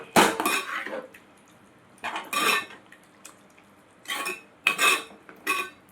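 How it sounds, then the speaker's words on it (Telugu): Shrimp curry being mixed after ginger-garlic paste goes in, a utensil scraping and clinking against the pan in four separate bursts of stirring with quiet pauses between, close and moderately loud, no talking. "అల్లం వెల్లుల్లి ముద్దను వేసుకోవాలండి. వేసుకుని ఒకసారి కలుపుకోవాలి."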